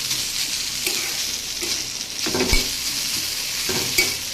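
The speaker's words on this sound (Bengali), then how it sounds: "ওটা দিয়ে আদা ফোড়নও দিয়ে আর পাঁচ ফোড়ন দিয়ে এটা একটু ভাজি ভাজি করে নেব।" Flat beans and carrot stir-frying with ginger and five-spice tempering give a steady close sizzle with occasional spatula scrapes and knocks on the pan.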